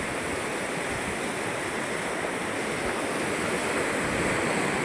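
The swollen, flooding Godavari river rushes in a dense, unbroken roar of turbulent water, steady and loud with no voices.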